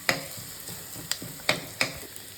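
Onions fry in oil in a pan for a Tamil banana-flower lentil dumpling gravy, with a soft continuous sizzle broken by four or five sharp clinks of a spoon stirring against the vessel.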